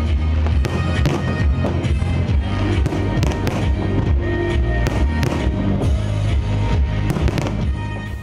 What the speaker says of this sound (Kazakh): Соңынан көк кезін бейрем салюты бізеді.